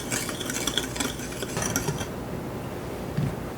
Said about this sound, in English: Now I'm just going to mix these dry ingredients together.